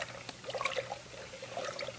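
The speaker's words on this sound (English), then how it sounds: "we'll take the water and add it to the sugar" Water poured over sugar for sangria ice cream, a soft trickling pour lasting a couple of seconds, fairly quiet and close.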